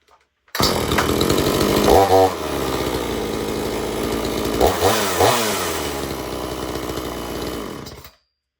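A Homelite Super XL chainsaw fires up after a short pause and runs loudly for several seconds, its two-stroke engine revving up twice before settling into a steady, rough roar that cuts off abruptly.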